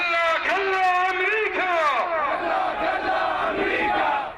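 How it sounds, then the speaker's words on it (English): A furious crowd of protesters and pro-Iranian militiamen shouting outside the American embassy in Iraq, loud sustained chanting and wailing voices massed close together, rising and falling without a break. "Furious crowds and an American embassy, the largest in the world, under siege"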